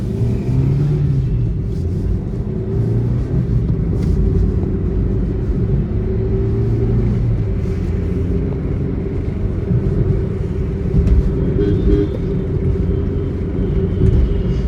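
A car being driven along a road produces a steady, deep rumble of engine and tyres heard from inside the cabin. The drone runs continuously, with only slight swells in loudness and no one speaking.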